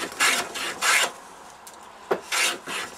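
A hand plane is pushed along a wooden edge in repeated rasping strokes, about five short passes with brief pauses, close and fairly quiet.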